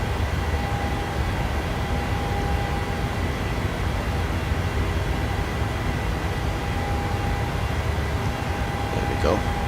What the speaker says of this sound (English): Rocketing out in the Jet2 737